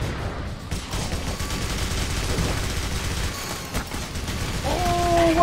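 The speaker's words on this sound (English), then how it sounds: "that missile just came out of nowhere" Clive Barker's Jericho game combat with a dense barrage of gunfire rolling on steadily, punctuated by heavy missile blasts, loud and continuous, with a brief tonal whine near the end.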